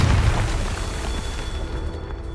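A Confringo blasting spell explodes in the Hogwarts Legacy video game, a loud low boom at the start that rolls into a sustained rumbling tail and slowly fades, with steady game ambience underneath.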